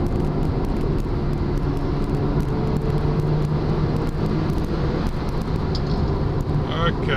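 Mazda RX-7 FD held in 4th gear around 4,000 RPM and about 110, pulling hard under full throttle with a steady, loud engine and road drone filling the whole stretch.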